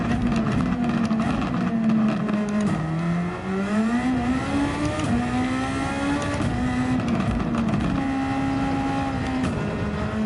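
A Superformula open-wheel race car in Gran Turismo 7 at Catalunya drones loudly and steadily, its engine note dipping briefly on a lift and then climbing again through the gears, with no voices over it.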